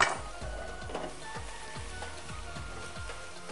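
Ginger and garlic sizzling in hot oil for chicken with roasted salsa, a steady frying hiss with regular scraping stirs about every half second, close and moderately loud, with no talk.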